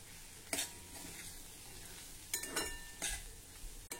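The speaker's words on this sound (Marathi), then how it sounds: "नारळ घातल्यानंतर 1-2 मिनिटांसाठी पुन्हा हे छान परतून घेऊ।" French beans and grated fresh coconut being stir-fried in a pan, giving a soft steady sizzle with a few sharp scraping strokes of a spatula at irregular moments, close by and moderately quiet.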